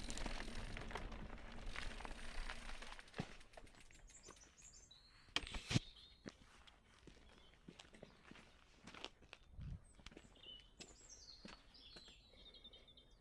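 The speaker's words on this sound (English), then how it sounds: "I can hear some birds" Birds chirp and call in short, faint bursts near the River Axe at Brean Sluice, with footsteps, scuffing and a few handling knocks close by and no speech.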